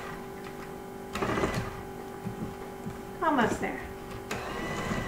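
An electric hand mixer beats cinnamon roll dough, its motor whining steadily and close throughout, swelling in louder bursts as the beaters dig in, while a voice speaks briefly over it.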